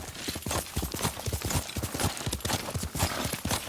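Horse hooves clip-clop steadily on the ground in Ghost of Tsushima, a quick, continuous rhythm of close, clear footfalls with no talking.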